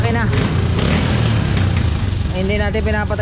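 A tricycle's engine runs steadily with a continuous low motor drone on a dusty road, loud and close throughout, while someone talks over it.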